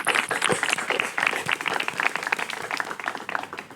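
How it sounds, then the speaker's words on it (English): Crowd applause at a live podcast event, a few seconds of scattered, uneven clapping with sharp individual claps standing out, fading slightly toward the end. "Round of applause to Sarmad."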